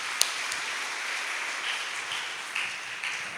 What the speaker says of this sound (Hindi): ताली बजाएंगे प्रभु के लिए